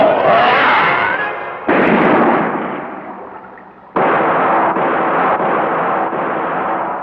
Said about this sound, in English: why don't I try to draw the policeman's fire away from Quasimodo?